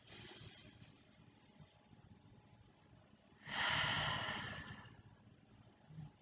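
Slow, quiet breaths during meditation, a soft low airflow that swells into one longer audible exhale near the middle, close and otherwise calm.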